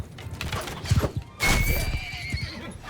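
Horse neighs loudly in Mount & Blade 2: Bannerlord, a shrill whinny rising after a stretch of clopping hooves and background battle noise, close and prominent.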